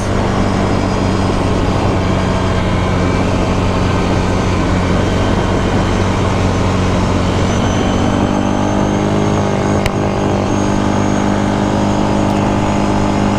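An engine runs loudly and steadily close by, holding a dense, continuous drone with a slight shift in pitch partway through, alone without talking.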